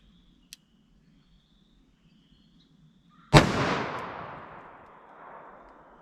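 A .44 Magnum revolver with a 4-inch barrel fires a single loud shot after a faint click, the sharp crack trailing off into a long fading echo.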